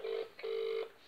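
Telephone ringing on the other end of a prank call: two electronic ring bursts, short then longer, heard faintly through the line with no talking.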